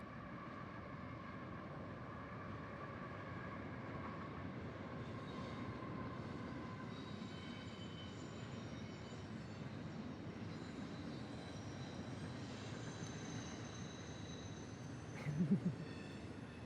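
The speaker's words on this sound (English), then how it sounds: "We love that train." A train passes at a distance in a long, steady rumble with faint high metallic wheel tones drawn out above it, and a brief louder clank near the end.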